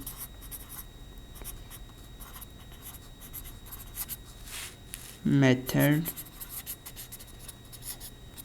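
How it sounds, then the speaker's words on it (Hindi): Hand writing during a statistics lesson, light scratchy strokes that are faint and intermittent, with someone speaking Hindi over them. "यहाँ मैं लिख देता हूँ"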